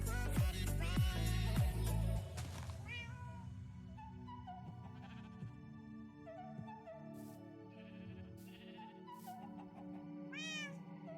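Cat in Minecraft Java 1.19.2 on a multiplayer server gives a quick run of loud, close meows, then softer meows and purring trills scattered over quiet game ambience.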